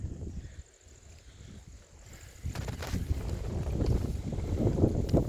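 Low rumbling storm wind from the east buffeting the microphone in a banana plantation, growing rougher and louder after a brief lull, with a faint steady whine in the background.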